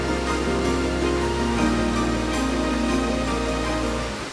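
Steady, dense rush of a forest waterfall in Bali, loud and constant throughout with a deep low roar, no voices.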